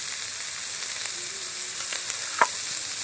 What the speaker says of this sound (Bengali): এবার বেটে রাখা কালো সরষে দিয়ে দিচ্ছি